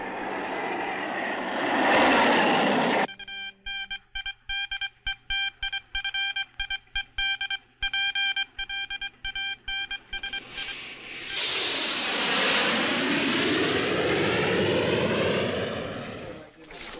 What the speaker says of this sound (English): What are Russian jets doing here?